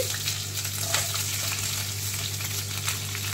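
Diced onion goes into a pan of frying chopped garlic, giving a steady close sizzle and crackle over a low hum, with no talk.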